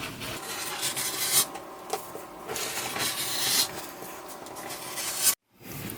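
Scissors cut a fabric rectangle for a headband. The blades rasp and crunch close by in uneven strokes, with short pauses between them, and end with a sudden drop to silence.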